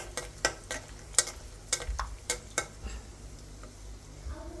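A spatula stirs and scrapes greens frying with garlic and dried chili in a pan, making a run of sharp, uneven clacks over a soft sizzle, close by with no talking.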